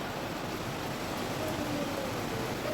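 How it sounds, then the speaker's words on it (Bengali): Steady rain falls in the monsoon, a soft, even, continuous patter that holds at a constant, fairly low level throughout with no voices. "কেমন বৃষ্টি হচ্ছে দেখো রিমঝিম বৃষ্টি"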